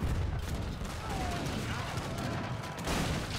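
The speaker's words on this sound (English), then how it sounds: "Heavy cannons trying to do what they can." Heavy cannons, bombards and needle guns fire in a real-time strategy game battle, a dense, noisy barrage of booms and rattling shots layered continuously without pause.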